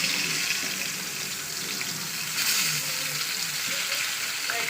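Fish frying in a pan of oil with figs, a steady broadband hiss and sizzle throughout, with a brief louder burst midway and faint low clatter underneath.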